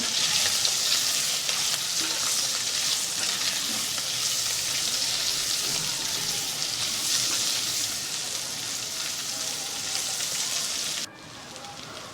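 Paneer cubes fry in a pan with a continuous, dense sizzle that stays loud and close, then drops sharply near the end.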